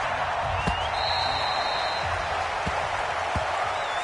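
Stadium crowd noise from Madden 20 before a Tampa Bay Buccaneers versus Atlanta Falcons matchup: a steady, dense roar of cheering with a few scattered thumps and brief whistles, with no one speaking.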